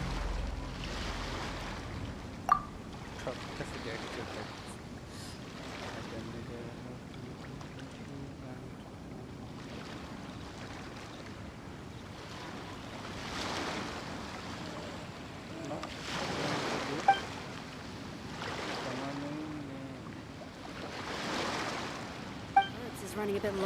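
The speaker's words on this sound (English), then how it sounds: "waves are as calm as always" Gentle ocean waves lapping around a boat at sea in Genshin Impact, a soft steady wash with faint swells and a few small knocks, quiet and continuous.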